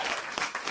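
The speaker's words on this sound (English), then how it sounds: "thank you for the applause and thank you for the warm welcome" A live audience at a hip-hop show claps steadily in a brief, dense burst of applause, a continuous patter of many hands at moderate level.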